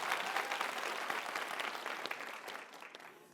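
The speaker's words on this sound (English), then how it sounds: "Another round of applause, ladies and gentlemen, for Tats and Gonza." An audience at a televised local democracy debate applauds, a dense round of clapping that starts full and gradually thins and fades toward the end, with no talking over it.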